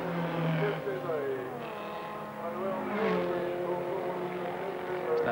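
A Fiat 124 racing up the Rampa da Falperra hill climb in 2000, its engine droning steadily and rising in pitch throughout, heard under continuous commentary.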